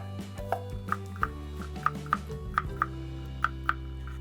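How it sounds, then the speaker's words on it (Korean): Garlic cloves being cut into thin slices with a knife, heard as a run of close, crisp board taps at a fairly steady rhythm with no talk. "저는 간 마늘 사용 안 하고 마늘을 편썰이 갖고 사용할 겁니다"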